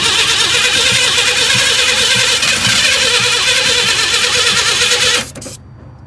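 A truck engine cranks and catches, then revs hard, loud and close, with a squealing, whinny-like edge. It runs continuously for about five seconds, then cuts off abruptly into near quiet.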